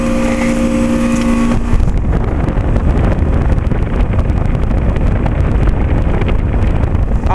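A Trane XL20i 3-ton heat pump outdoor unit running in heat mode in air in the 30s °F gives a loud, steady roar with a low hum that shifts after a couple of seconds. Heavy wind buffets the microphone throughout.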